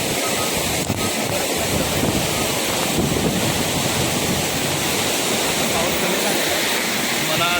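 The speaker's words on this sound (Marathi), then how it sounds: "आज बघू तुम्हाला धबधबा दाखवतो" Waterfall at Radhanagari ghat in a natural forest setting: a steady, dense rushing roar of falling water, loud and continuous throughout, mixed with wind buffeting the microphone.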